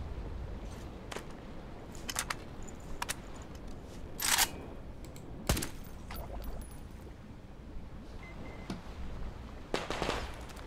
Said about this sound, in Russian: Давайте я выстрелю оглушительно